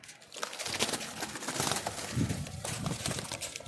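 A Rampuri pigeon with silver eyes coos softly amid other nearby rustling and bird noise, the calls low and close over a busy, noisy background.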